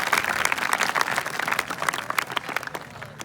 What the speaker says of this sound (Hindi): तो जोरदार ताली बजाओ इस स्कीम के लिए।